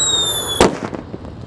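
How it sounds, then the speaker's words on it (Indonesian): Whistling firecrackers set off in a hole in the ground: thin high whistles hold steady, then one loud close bang breaks out, trailing into a short crackle of smaller pops. "eksperimen menyalakan macam-macam mercon dan petasan di lubang tanah"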